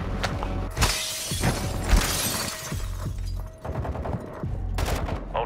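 Gunfire rattles through a Call of Duty: Modern Warfare II match, loud, close volleys of rapid shots mixed with sharp cracks and shattering impacts, continuing in bursts across the clip.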